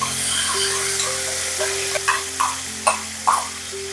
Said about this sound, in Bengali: এবার এর মধ্যে দিয়ে দেব পেঁয়াজ বাটা।